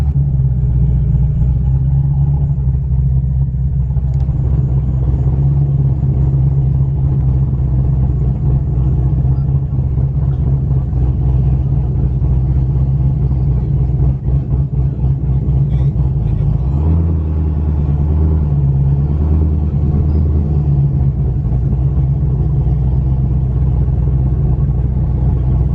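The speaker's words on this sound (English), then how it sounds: "Got the Corvette out for some racing." A Chevrolet Corvette Z06 rumbles loudly and steadily at a nighttime car meet, a deep close engine drone that swells with a rev around the middle, with faint voices in the background.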